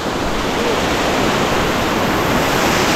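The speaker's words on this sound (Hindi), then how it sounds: "और ये देखिए वाटरफॉल" A waterfall in the Kundalika Valley on a jungle trek pours as a dense, steady broadband roar, loud and continuous with no other sounds.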